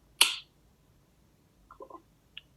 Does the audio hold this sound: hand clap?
yes